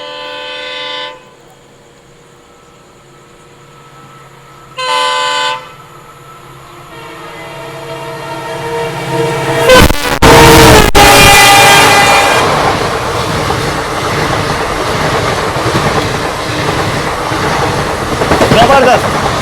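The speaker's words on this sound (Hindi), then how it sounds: "पीछे से आ रही है बांद्रा अजमेर सुपरफास्ट स्पेशल। ये तो डीजल लोकोमोटिव के साथ आ रही है।" Bandra Ajmer Superfast Special train hauled by a diesel locomotive passes close by, heard from an onboard train near Ratlam Junction: two loud horn blasts, then a rising rumble and rhythmic clatter of wagons rushing past.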